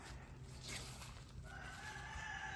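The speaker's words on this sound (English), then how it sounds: "Yeah, here are the roosters." Roosters crow in a backyard garden, a few drawn-out calls rising over steady outdoor background noise, heard from a moderate distance with no talking.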